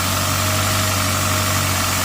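A car engine idling just after a cold start with premature blow-by, a steady close low hum with a constant even drone and no variation, loud and alone.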